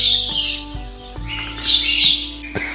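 Exotic birds in a zoo aviary give loud, close, shrill squawks and chirps in overlapping bursts, with faint knocks and rustles in between and no talking.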